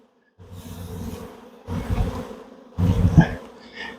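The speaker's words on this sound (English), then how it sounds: "I'm gonna shake these bees in here." Honeybees being shaken from frames into a hive box at an apiary. Three loud bursts of buzzing swell and fade in turn, with a low droning hum filling the gaps between them.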